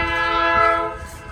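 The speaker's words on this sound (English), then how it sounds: "Finally got the train coming back." An Indiana & Ohio Railway train running on street track by a fire department sounds a steady, loud, sustained horn chord up close, with a low rumble under it and no voices.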